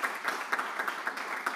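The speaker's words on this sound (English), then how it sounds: "give her a round of applause" Audience clapping at a presentation event welcoming a new program director, a steady dense patter of many hands, moderately loud and continuous with no voices over it.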